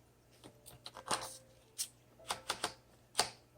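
Keys strike on a 1954 Smith Corona Skyriter travel typewriter, a series of sharp, close mechanical clacks in uneven bursts with short pauses between, no speech.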